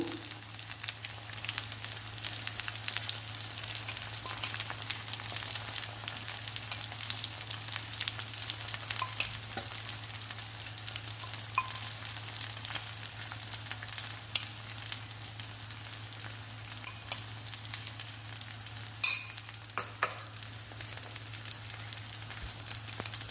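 Eggplant fries in a pan with coconut chili and chana dal powder, a steady, even sizzle with soft crackles and occasional stirring scrapes running continuously at moderate volume, without voices.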